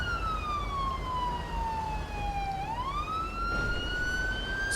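Police car siren in the GTA V mod LSPDFR, a single clear wailing tone sweeping slowly down and then back up, moderately loud over a low engine rumble.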